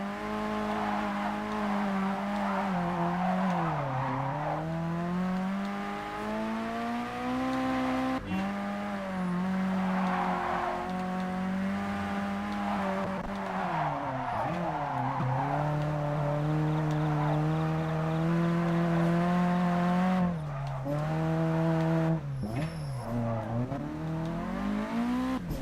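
Cars drifting in the racing game Japanese Drift Master, engines droning and revving loudly and continuously, with swooping pitch changes as the cars slide and tyres squeal, and a brief break near the end.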